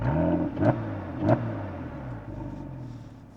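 A Porsche 997 fitted with the PSE sports exhaust pulls away from a small car park with a deep, steady engine rumble, swelling in two short surges under light throttle, close and fairly loud.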